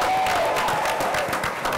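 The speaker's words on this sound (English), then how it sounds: "So we'll give another round of applause there." A conference audience applauds in a short, dense burst of clapping with a few whoops, loud and close, continuing throughout.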